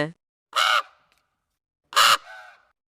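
A cartoon crow in a Tamil children's story gives two short, loud caws about a second and a half apart, close and clear with silence between them.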